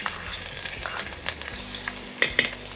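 Ginger sizzles gently in hot coconut oil in a pan, a quiet, close crackle with soft stirring scrapes and a couple of sharper pops toward the end.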